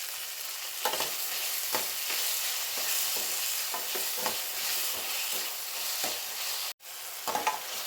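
Tomatoes sautéing in a pan for crab curry, a soft continuous sizzle broken by repeated stirring scrapes and a brief cut near the end; no talking.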